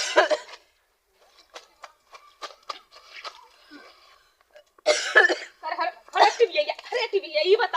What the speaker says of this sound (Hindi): आज 5-6 दिन से खांसी हो